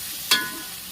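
Coriander being stirred into a mixture in a pan: a single brief scrape or stir with a faint sizzle trailing off, close and soft, no talk.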